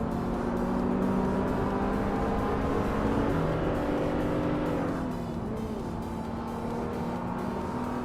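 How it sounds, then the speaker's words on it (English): Race cars in a racing video game launch off the line at a Shanghai circuit, among them a turbocharged Peugeot 207 GTI, as layered engine roars rise and pitch steadily upward together before easing off. "the race kicks off at Shanghai with Rondom 69 on pole, in a classy 27 Peugeot 207 GTI"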